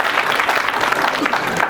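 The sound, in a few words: audience applause at school annual function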